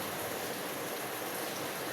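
Rain falls steadily, a soft even hiss that stays faint and constant throughout with no voices.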